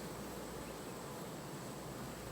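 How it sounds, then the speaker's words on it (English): Honey bees swarm around an elevated hive only a few months old, their dense, steady buzz filling the air continuously and evenly without any talk. "It's a significant beehive."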